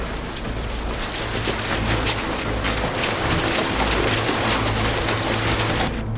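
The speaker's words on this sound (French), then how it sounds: "on a commencé à entendre ce qui nous a semblé être de la grêle" Heavy hail or torrential rain pounds a house during a tornado, a dense, continuous roar of impacts with a low rumbling undertone, loud and steady throughout, no voices.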